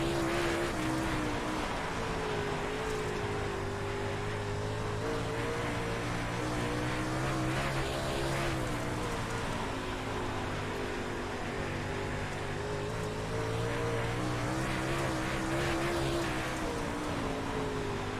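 A Super Dirt Late Model race car engine in the iRacing sim drones and revs steadily for a long stretch, its pitch rising and falling as it accelerates out of corners, loud and continuous.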